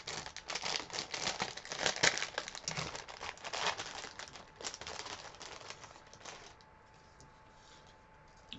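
Someone tears and crinkles the wrapping of a taped birthday gift package, a busy, close rustle of paper and tape that fades into quiet near the end.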